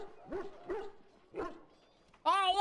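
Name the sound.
dog barking in video game Dragon Age Origins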